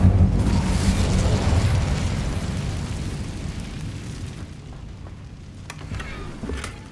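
Incendio fire spell blast in Hogwarts Legacy, a loud roaring burst of flame that rumbles and slowly fades into crackling, sputtering fire with scattered pops, no talking.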